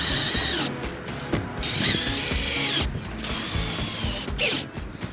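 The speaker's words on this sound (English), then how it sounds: "I have finished screwing all of these in." Power drill driving screws during a Maxxair roof fan install, repeated whirring bursts with a ratcheting mechanical grind, close and loud, stopping and starting several times.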